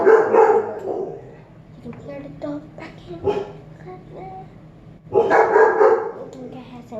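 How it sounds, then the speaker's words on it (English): A dog barks in short bursts at a distance, the calls faint and intermittent beneath nearby voices and handling noise from indoor slime-making, with louder rustling at the start and near the end. "You can hear the dog back in."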